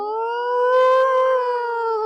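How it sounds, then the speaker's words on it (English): A wailing World War II style air raid siren winding up holds a loud, steady tone, its pitch swelling slightly upward and then easing back down. "you hear that like World War II air raid sound"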